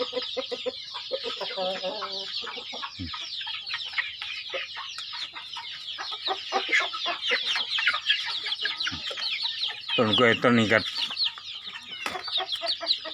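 Chickens cluck around a chili garden plot, with busy overlapping clucks and chatter in a steady run near the listener and someone talking in between.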